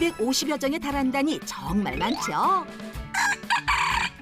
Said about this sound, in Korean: 갑자기 닭들이 울기 시작하는데요.